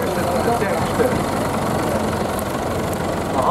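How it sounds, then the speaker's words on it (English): A Massey 65 tractor engine runs with a steady, continuous rumble at a ploughing match on a farm in Lechlade, with someone talking over the engine throughout. "This is a Massey 65 tractor."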